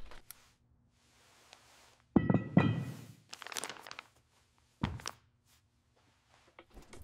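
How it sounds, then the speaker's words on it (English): A person sets dumbbells down and places a product on a bench, making a few dull thuds and knocks with shuffling and rustling between them, close and moderately loud in a quiet room. "make a video where the person puts her dumbbells down, stands up from the bench, picks up the product from under the bench, sets it on top of the bench"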